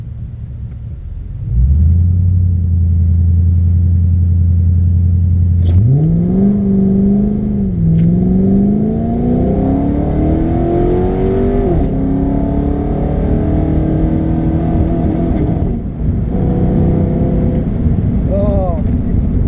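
A BA Ford Falcon XR8 on its hill climb run, the V8 engine revving up through rising gear pulls with a brief dip between shifts, loud and close as if from inside the car, a voice talking over it.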